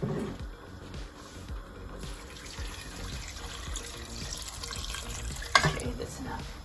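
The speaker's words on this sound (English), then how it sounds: "Okay, I think we need to add some more water." Tap water running into a cooking pot while making bograch, a Ukrainian stew: a steady splashing, gurgling stream with a brief sharper clink near the end, moderately close.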